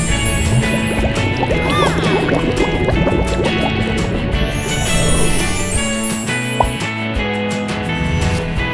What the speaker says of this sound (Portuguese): Bote salva-vidas.